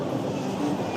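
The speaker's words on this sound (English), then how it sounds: "train is here." A train pulls into a station platform in Europe, giving a steady, broadband rumble and rolling noise that stays loud and even for the whole second, with no voices heard over it.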